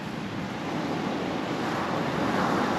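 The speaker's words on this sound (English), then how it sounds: "that wind just picked up a notch" Strong coastal wind roars steadily in a broad, unbroken rush that buffets the microphone and grows slightly louder toward the end, with surf blending beneath and no voices.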